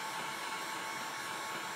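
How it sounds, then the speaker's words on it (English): A heat gun blows hot air over a mixed media art tag, a steady, loud, unbroken rushing roar held close for the whole short stretch. "Don't get your heat gun too close, or it'll start to burn."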